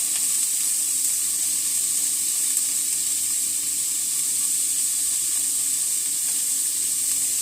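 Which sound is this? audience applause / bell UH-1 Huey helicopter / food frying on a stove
food frying on a stove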